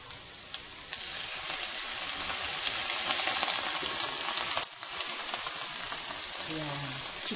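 Chicken stock goes into a sizzling pan while crispy noodles cook, and a loud, steady frying hiss fills the space close by. A brief splash is followed by continued bubbling, with a faint voice near the end.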